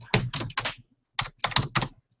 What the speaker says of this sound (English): Let me actually go to type it in.